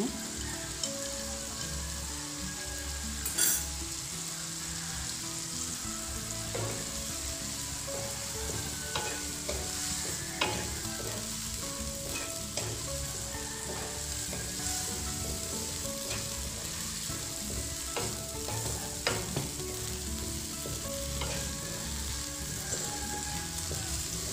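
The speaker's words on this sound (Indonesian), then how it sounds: "sekarang akan saya tuangkan larutan tepung maizena" Broccoli and tofu frying and being stirred in oyster sauce with cornstarch slurry, a steady close sizzle with frequent scraping clicks of the utensil against the pan throughout, no talk.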